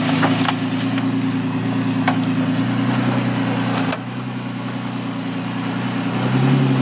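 Lifted third-generation Toyota Tacoma stuck in mud in crawl mode, engine droning steadily at a low pitch as the tracks spin continuously, with a slight dip and then a rise near the end.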